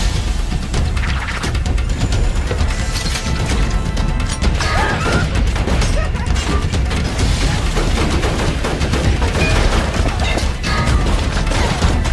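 Gunfire and crashing blows in a samurai fight from the Rurouni Kenshin film, a dense, loud, continuous barrage of shots and impacts with no talk.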